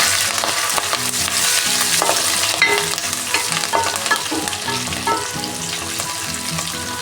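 Green chilies and curry leaves fry in hot coconut oil with ginger and garlic for a mackerel masala, giving a steady close sizzle and crackle with stirring scrapes throughout.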